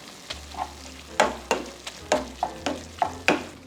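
Ground beef and minced garlic sizzle in a pan over medium heat while a utensil stirs and scrapes them. Rhythmic scraping strokes come about every half second over the steady, close frying hiss.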